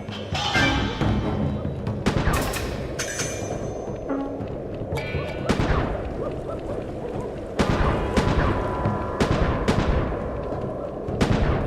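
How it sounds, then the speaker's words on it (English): Fireworks are shot off repeatedly in Sly 3: Honor Among Thieves on PS2, a dense run of loud booming blasts and crackling bangs over a continuous rumble of game sound. "Be careful with those fireworks, Panda King. A careless shot could hurt Murray."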